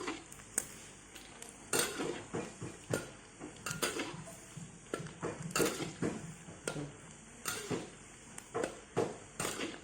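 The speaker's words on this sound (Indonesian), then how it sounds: "diaduk-aduk pelan-pelan, jangan sampai apa, dengan perasaan sih menggorengnya" Dendeng beef being stirred slowly while frying in a pan, with repeated scraping and clinking of a utensil against metal in an uneven rhythm, fairly quiet and close.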